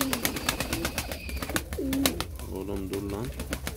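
Pigeons coo in a soft warbling rhythm after being let out of their coop, close by, with repeated sharp clicks and rustling around them.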